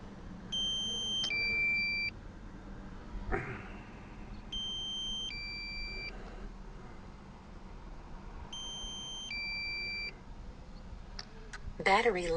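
A drone's low-battery warning sounds three times, each a short run of bright two-tone electronic beeps. The beeps are clear and fairly close over a steady background hiss, with a few thumps and clicks near the end.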